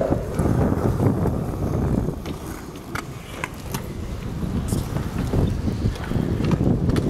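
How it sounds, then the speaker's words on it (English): Strong wind buffets a microphone outdoors at a city park, a loud continuous rumbling roar with gusty surges and occasional crackles, with no clear voices. "So there's a lot of wind again, so you guys can't hear me."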